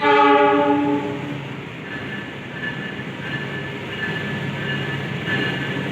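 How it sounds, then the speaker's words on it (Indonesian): The Gumarang passenger train rumbles into a station in Indonesia after a loud horn blast at the start, wheels and carriages rolling steadily past, close and loud. "Kereta api yang barusan datang ini adalah kereta api Gumarang"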